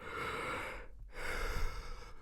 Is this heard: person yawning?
yes